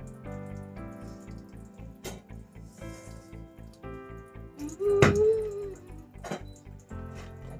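Water running and splashing at a bathroom sink as a face is rinsed, soft continuous trickle with one brief splash, mostly under background music.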